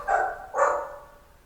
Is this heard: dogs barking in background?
yes